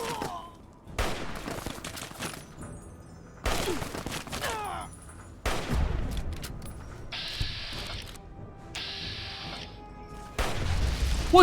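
An automated turret firing in Fallout: Tale of Two Wastelands, with several loud bursts of rapid gunfire separated by short pauses, alongside other game sounds.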